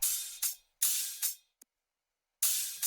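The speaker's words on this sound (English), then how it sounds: "Basically just a white noise loop" White noise loop sample from the Anti-King drum kit, used in a trap metal build-up: loud hissing bursts that swell and cut off in a choppy, gated rhythm, with a short silent gap before the hiss returns.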